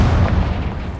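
A Confringo fire blast spell in Hogwarts Legacy lands as a short, heavy boom with low rumbling energy throughout the brief moment, loud and close.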